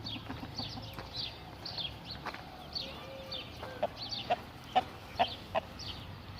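An Indian rooster clucks in a series of short, sharp calls close by, getting more frequent toward the end, with faint ambient noise and no talking.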